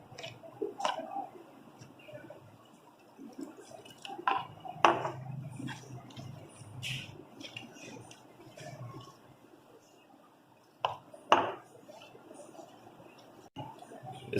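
Gram flour (besan) batter with a little baking soda is stirred and whisked with water in a bowl, producing soft wet squishing and intermittent clinks of a spoon against the dish, with a few louder taps.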